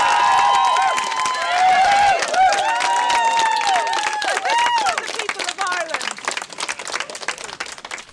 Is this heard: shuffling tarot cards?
no